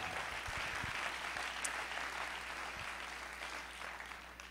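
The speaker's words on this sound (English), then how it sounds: "Clap your hands unto the Lord." A church congregation claps hands during a sermon, a steady, fairly faint wash of clapping that continues throughout.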